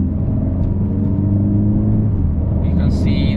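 A 2025 Mercedes-AMG CLA 45 S Coupe accelerates, heard from inside the cabin as a steady, loud low engine rumble and drivetrain whir, with a muffled voice and a brief higher electronic chime near the end.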